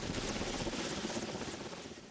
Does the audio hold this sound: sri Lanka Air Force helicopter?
yes